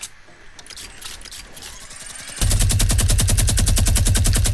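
Minigun fire in the video game Fortnite: after a quieter opening, a loud, rapid, unbroken stream of shots bursts in halfway through and runs to the end.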